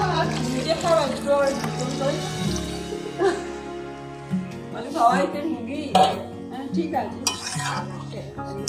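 Water is poured into a pot of chicken cooking in a home kitchen, with splashing and stirring, metal utensils clinking against the pan, and speech around it.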